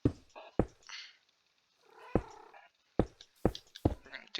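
A cat in a video game gives short purring and meowing bursts, close and fairly faint, separated by moments of silence, with no talk.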